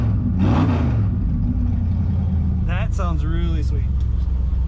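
A 1963 Ford Galaxie Country Squire wagon with its exhaust cutouts open rumbles loud and deep, steadily up close, and revs briefly, while a voice speaks over it.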